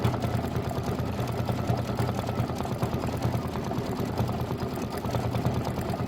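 Embroidery machine stitching out a 22-inch appliqué pillow design, a steady fast mechanical whirring and rattling hum that continues evenly throughout at moderate volume.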